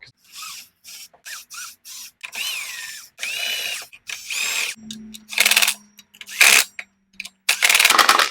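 A cordless impact wrench works on clutch parts of a Kawasaki Teryx 800 in bursts of whirring and rattling hammering, close and loud, with short pauses between pulls of the trigger.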